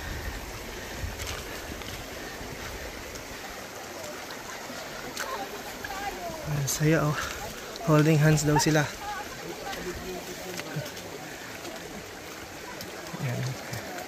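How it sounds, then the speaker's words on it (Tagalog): Cool river water rushing and splashing around people wading across a river on the way to Mt. Pinatubo, a steady close wash under scattered talk, with a few louder splashes in the middle. "Yun yung isang masarap na part pag dumadaan sa ilog kasi ang lamig."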